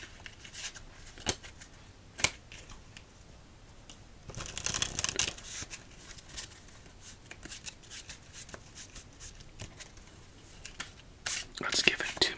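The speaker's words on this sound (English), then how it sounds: "Let's give it 2 more shuffles and deal out our next game." Playing cards shuffled for a solitaire game, a soft riffling burst near the middle followed by lighter card handling and taps, close and quiet with no talk.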